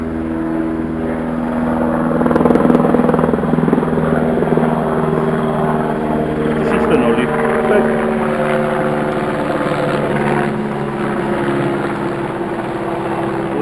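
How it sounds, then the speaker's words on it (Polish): Helicopters, probably two, flying over a field near a forest, give a steady rotor drone with a low thudding pulse that swells and fades slowly, moderately loud throughout with faint wind and handling noise. "ode mną helikoptery jakieś lecą, chyba dwa"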